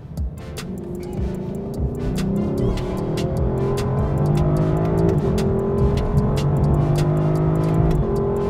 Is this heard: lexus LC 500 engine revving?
yes